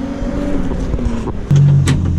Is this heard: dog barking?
no